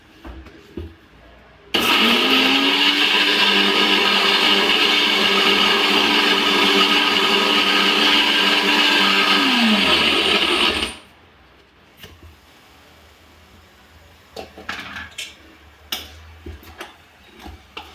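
A kitchen mixer grinder blends onion and tomato into a masala paste, a loud steady motor whine starting abruptly, holding for about nine seconds, then stopping, followed by faint clicks and handling noises.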